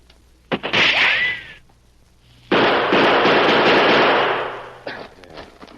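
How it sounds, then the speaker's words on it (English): A brief crackle of gunfire comes first, then a longer, louder volley of rapid shots that fades out, loud and close, set in a radio drama scene with no voices. "I'm going to throw some shots out there"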